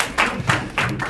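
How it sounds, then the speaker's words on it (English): Brief bursts of audience clapping break out in three distinct waves for a presenter at an African entrepreneurship event, close and moderately loud, with no talk over them. "So a round of applause for Mr. Kenneth."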